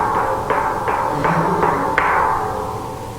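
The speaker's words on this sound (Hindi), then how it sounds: "ड्रम बीटिंग की आवाज़ कैसी है? भारी।" Heavy drum beats strike about six times at a steady moderate pace, deep and resonant with each hit ringing into the next, close and without voices.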